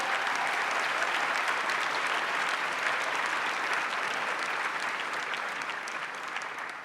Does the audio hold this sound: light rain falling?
no